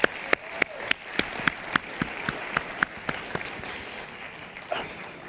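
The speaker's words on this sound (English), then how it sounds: "let's give a round of applause for all our honorees so far" Applause for honorees at the NABJ Hall of Fame luncheon: light, spread-out clapping from the room with distinct individual claps in a loose rhythm, thinning out after about four seconds.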